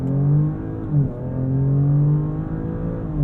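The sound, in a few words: car launch control acceleration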